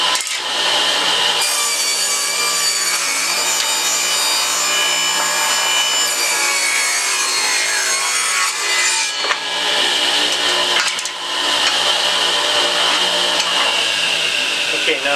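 A hand saw cuts through wood for a homemade beehive frame, loud continuous rasping strokes running steadily for about fifteen seconds with brief pauses, close and dominant.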